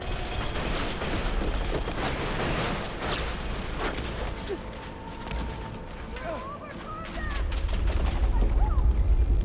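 Heavy weapons fire in the video game Horizon Forbidden West, a dense, continuous roar of shots and blasts that swells near the end, with voices speaking over the barrage.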